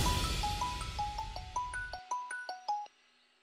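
A phone in a Hindi TV drama rings with a bright, repeating melodic chime of pinging notes for about three seconds before cutting off, soft and alone over faint background noise.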